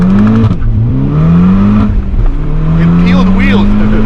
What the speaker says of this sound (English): It peeled wheels.